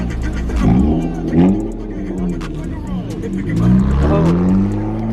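A Toyota Supra revs at a car meet, its mid-pitched engine rising and falling in a few swells beneath steady chatter from nearby people.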